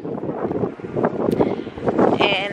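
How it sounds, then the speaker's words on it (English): Strong gusty wind buffets the microphone outdoors while a woman waits for a ride, a rumbling, fluttering roar that rises and falls throughout, with her voice partly audible under it. "it's mad windy out here"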